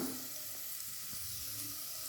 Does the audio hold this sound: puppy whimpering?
no